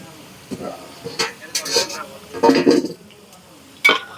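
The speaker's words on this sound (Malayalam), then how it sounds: "നമ്മുടെ കൊഞ്ചിവിടെ വറുത്ത് റെഡി ആയിട്ടുണ്ട് അപ്പോൾ കോരി കോരിയെടുക്കാം" Fried prawns are lifted from a pan with a metal scoop in a home kitchen: several short scraping clinks and clatters spaced irregularly, close and fairly loud, with faint sizzle between them.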